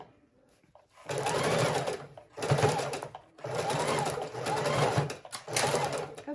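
Sewing machine stitches the edging of a fabric book cover in four steady whirring runs with short pauses between them, close and clear with no talking.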